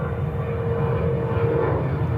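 An American Airlines heavy jet on its takeoff roll from runway 13 right at JFK gives a steady, fairly loud engine roar with a sustained tonal hum, briefly and without voices.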